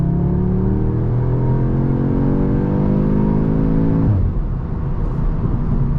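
A 2023 Audi S3 in dynamic mode accelerates hard at full throttle, its engine note climbing steadily through a long gear before a quick shift drops the pitch and the pull resumes, steady and close from inside the cabin.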